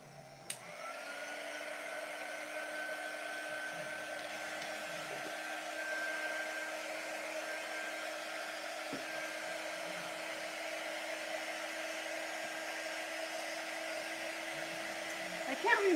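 A hair dryer blows steadily to dry paint on a chalk stencil, giving a continuous, even whir that holds at one level for the whole stretch, with no talk over it and a brief knock near the end.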